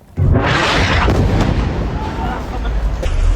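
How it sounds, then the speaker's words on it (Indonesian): A loud, close blast from an Israeli air strike on a house in Al-Nasr, Gaza City, erupts suddenly and then rumbles and roars for several seconds as it slowly fades. "Suara dentuman masih terdengar di tengah bangunan yang terbakar."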